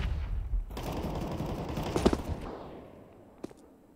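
Desert Eagle pistols fire in a video game, a loud shot opening a noisy, reverberant stretch of game action with scattered sharp bangs that fade toward a final lone report.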